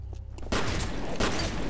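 A shotgun blast from the first-person shooter F.E.A.R., loud and close, with a sudden broadband burst followed by a second heavy report amid ongoing combat noise.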